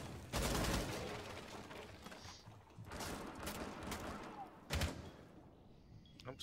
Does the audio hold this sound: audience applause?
no